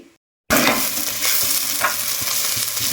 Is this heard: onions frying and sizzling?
yes